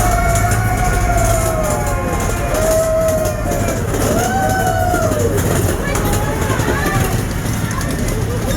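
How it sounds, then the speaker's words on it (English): A train ride at Knoebels amusement park in the evening, with another train passing close by: steady rumble and rolling noise throughout, with wavering whistle-like tonal sweeps, while people talk over it. "Another train."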